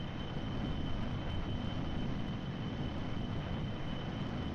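Jet-engine plane flying in Kerbal Space Program, a steady broadband roar with a faint high whine that keeps an even, fairly quiet level throughout.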